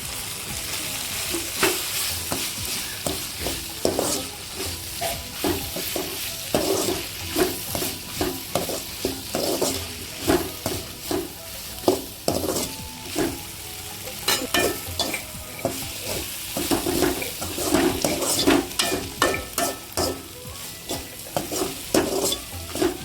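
Tomato and grated coconut sautéing in a pan for a Tamil egg drop curry, with a steady sizzle and repeated scraping strokes of a spoon stirring throughout, close and fairly loud, no talk.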